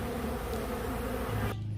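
Honeybees robbing a hive make a dense, continuous buzz close by, with one brief louder drone before it cuts off.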